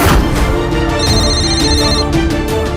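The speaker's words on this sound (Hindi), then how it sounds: "एक्सक्यूज मी सर, आपका फोन" A phone ringtone plays a repeating electronic melody with sustained tones, loud and close, running continuously without any voices.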